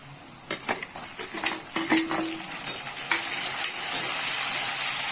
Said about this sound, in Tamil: இதை கொஞ்சம் நல்லா வதக்கிக்கோங்க.